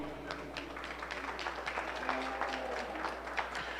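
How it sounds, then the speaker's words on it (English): A crowd at a 4-H provincial beef show claps for exhibitors in an arena, with moderately loud, even applause over a steady low hum and faint background voices. "I think these 2 individuals deserve a round of applause"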